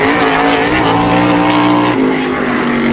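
A tour-type modified race car runs a qualifying lap at Wall Stadium, its engine a loud, steady, continuous roar close by that shifts pitch slightly near the end, with no talk.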